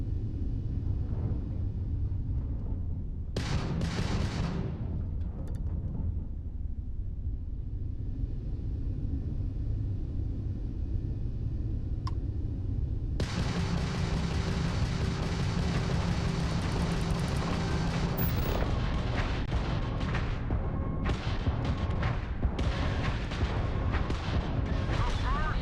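Spaceship weapons fire in Starfield, a sustained roaring barrage of booming, rumbling blasts that stays loud throughout and swells into denser, brighter bursts in the second half, with battle noise layered over everything.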